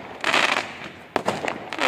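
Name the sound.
fireworks on Bonfire Night in the UK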